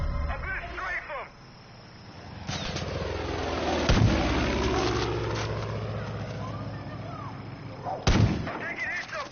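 Strafing gunfire in Far Cry 5, a loud sustained roar of rapid shots and rumbling blasts that swells and fades over several seconds, with sharp bursts near the start, middle and end.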